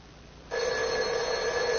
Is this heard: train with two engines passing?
no